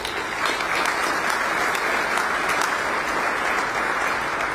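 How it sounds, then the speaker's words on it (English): Audience at the Bexar County State of the County address giving a steady round of applause for county and city leaders. The clapping sounds dense and even for over four seconds, with no speech. "Can we give them a round of applause?"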